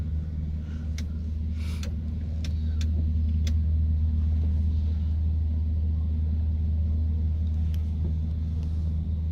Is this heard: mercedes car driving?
yes